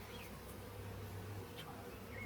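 A low, steady droning buzz of many honeybees at a hive, fairly close, with a few individual insects zipping past.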